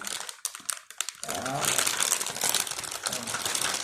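A kinetic sand castle set package being torn open, with loud, continuous plastic crinkling and rustling up close after a few scattered handling sounds.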